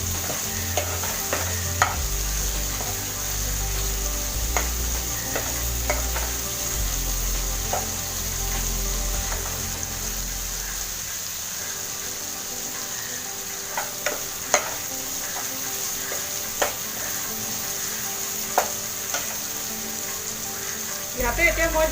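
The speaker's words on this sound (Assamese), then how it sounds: "এইখিনি ভালকৈ ভাজিব যাতে কেঁচা গোন্ধটো থাকি নাযায়" Masala frying and sizzling in a pan while being stirred for an Assamese chicken curry with potato, with a steady hiss, a low rumble that drops out midway, and scattered scraping clicks of the spoon against the pan.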